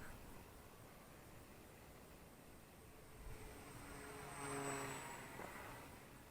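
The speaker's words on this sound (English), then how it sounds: "you can fly pretty close proximity with this plane" Volantex P51D Mustang Red Tail 750mm RC warbird flying nearby outdoors, a steady propeller drone that swells as the small plane passes close overhead, then fades slightly.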